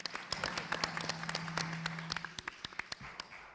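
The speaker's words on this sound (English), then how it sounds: "We can clap that." Scattered audience clapping at a town hall forum in West Hollywood, sparse and fairly faint, with separate claps spread unevenly and a low steady hum underneath.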